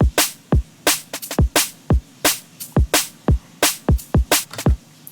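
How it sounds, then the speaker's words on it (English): Crisp electronic hi-hat hits placed off the beat in a jump-up drum and bass pattern, steady, loud and syncopated, each a sharp bright tick with a quick decay, alone without any voice. "And then I've got a couple of hi-hats off the beat."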